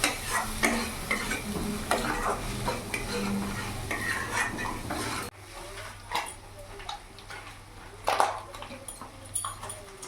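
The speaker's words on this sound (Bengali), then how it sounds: "সব মশলা উপকরণগুলো ভালো করে মিশিয়ে নেব" A spoon stirs cumin, coriander and chilli powder into a jackfruit and shrimp curry in a pan, with soft scraping and a low sizzle that drops quieter halfway through, plus scattered clinks of metal.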